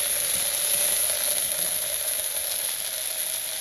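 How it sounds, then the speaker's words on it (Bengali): Leafy greens (shak) fry in a hot pan with a steady, bright, even sizzle that holds close and loud throughout, with no talking. "তাহলে যে শাক ভাজবো, শাক দিয়ে দিই"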